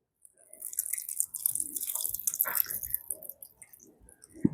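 Liquid pours and splashes into a pot over chicken and vegetables for a chicken pot pie, a steady wet trickle with some sloshing, close by and moderately loud.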